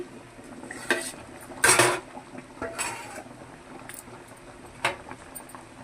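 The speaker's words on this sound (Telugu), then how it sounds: "ఇప్పుడు ఒకసారి మూత తీసి చూద్దామండి" A lid lifted off a cooking pot of sambar, with a sharp metallic clatter in the middle followed by a few lighter knocks and scrapes of cookware, close by with no talking.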